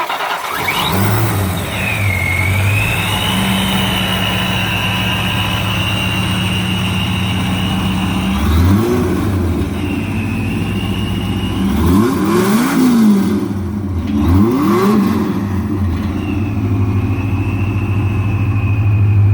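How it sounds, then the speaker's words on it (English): A supercharged 302 V8 in a 1992 Lincoln Mark VII runs close by, settling into an idle and then blipping through several sharp revs, with a whining squeal riding along under the steady engine note. "I think I'll start it up for you so you can hear it run, and then I'll open up the headers."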